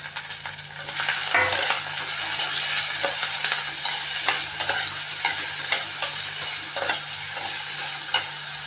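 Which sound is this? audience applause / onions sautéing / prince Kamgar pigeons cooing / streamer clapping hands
onions sautéing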